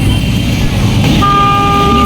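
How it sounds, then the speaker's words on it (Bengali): A passenger launch on a river sounding its horn, a loud sustained tonal blast that starts partway through over a noisy crowd background. "ভাই লঞ্চটা কোথায় বসে হর্ন দিতেছে আর এই জায়গায় শুনাইতেছে"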